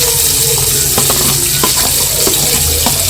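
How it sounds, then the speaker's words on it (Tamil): Three large chopped onions sauté in oil with fennel and spices for masala vadai gravy, a loud, continuous close-up sizzle broken by scraping stirs, with no voices. "இப்போது இந்த வெங்காயத்தை நல்லா வதக்கி விட்டுக்கலாம்."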